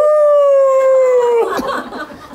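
A person imitates a wolf howl with one long, steady sustained tone that drops slightly in pitch, close and loud, then breaks off into rougher breathy vocal noise during a Buddhist temple talk.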